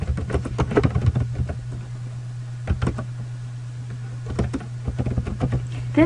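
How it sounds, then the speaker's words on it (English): Fingers tap on a computer keyboard in short irregular runs of quick clicks with brief pauses, close and moderately loud, over a steady low electrical hum with no talk. "You would type in your value"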